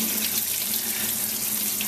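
Steady running water pours continuously while a dog is being wet down for a bath, a close, even rushing stream with no voices.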